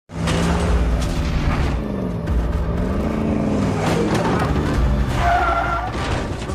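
In a film scene, a car roars and skids before ramming into a man. A loud, continuous engine drone rises and falls, with tyre screeches and heavy thumps of impact, and no talk.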